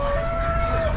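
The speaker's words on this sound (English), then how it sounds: "Starting out with 3 roosters." A bantam-type rooster crows close by, one sustained cock-a-doodle-doo holding a steady pitch across the whole second over a low din of farm-animal noise at an auction.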